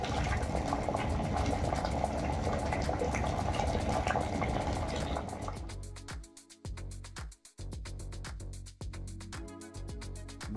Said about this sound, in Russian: Буквально пару минут хватило для полного закипания воды в данном чайнике.